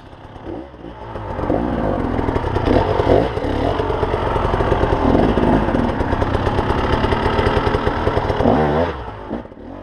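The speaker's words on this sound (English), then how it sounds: "I'm riding a 2013 KTM 300 XCW, and I am not using a recluse clutch." A 2013 KTM 300 XCW two-stroke dirt bike works through an extreme trials section, engine revving and bogging in uneven bursts with clutch slipping, loud and close throughout with no talk.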